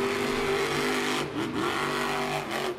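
At a Monster Jam event in Jacksonville, a monster truck engine revs hard as it drives through thick mud, a loud, continuous throaty roar with rising and falling pitch over a brief stretch.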